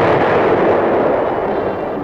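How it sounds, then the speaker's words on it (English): Tank guns firing during armored cavalry road-clearing operations in Vietnam, 1969, heard as a dense, continuous rumble of heavy booms and blasts that stays loud throughout, no talking. "Tanks were used to keep the roads open at strategic points, firing to keep the enemy off balance."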